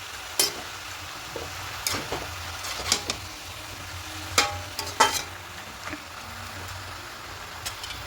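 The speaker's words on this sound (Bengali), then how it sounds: "নিচের থেকে সবজিগুলো উপর দিকে তুলে দেবো।" Spinach and vegetables with hilsa fish head stirred in a pan, a soft sizzle underneath with scattered scraping clicks of the spoon against the pan at irregular intervals, close and moderately loud.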